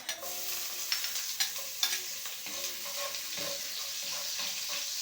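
Garlic sizzles steadily in hot oil as a spoon stirs and scrapes the pan, with a few sharp clinks standing out over the constant close frying hiss while a simple vegetable dish is started.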